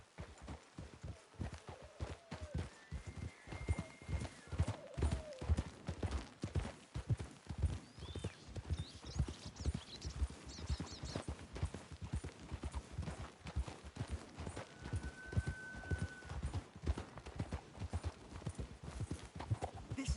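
Horse hooves clip-clopping in the video game Red Dead Redemption 2, a steady rhythmic trot of close, distinct hoofbeats running throughout, with a few soft whinnies and snorts and no talk.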